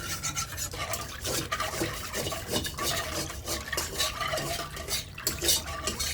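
A spoon steadily stirring lachha semai with sugar in a metal pot over the stove, a continuous close scraping and rasping with rhythmic clinks against the pot, no voices.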